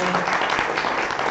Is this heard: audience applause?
yes